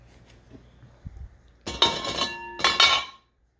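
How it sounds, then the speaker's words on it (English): Metal baking lids are lifted off and set down on a cooling rack, producing two bursts of ringing clanks and clinks close by, with a faint bump beforehand. "I'm just going to take these lids and take them off"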